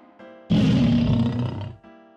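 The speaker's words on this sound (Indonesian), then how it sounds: "mengambil nafas panjang, lalu mengaum nyaring di telinga beruang besar itu" A lion's roar in a children's bedtime story: one loud, rough roar of about a second and a half, close and powerful. A faint background tone plays before and after it.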